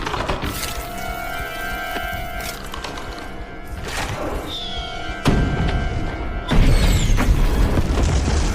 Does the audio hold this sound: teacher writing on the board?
no